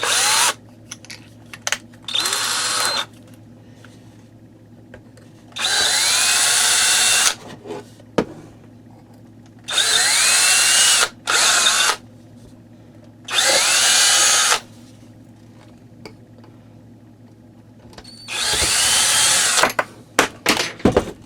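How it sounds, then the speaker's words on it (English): A power drill whirs in several separate bursts lasting a couple of seconds each, close and loud, with quiet pauses and small clicks between runs. "That drill bit was better."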